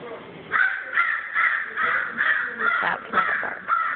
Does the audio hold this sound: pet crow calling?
yes